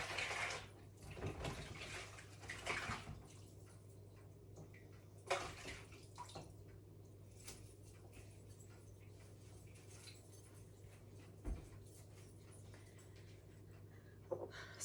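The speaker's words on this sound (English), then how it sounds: "I'll just give my hands a rinse." Water runs from a kitchen tap while hands are rinsed, a faint steady stream with a few soft clunks and knocks.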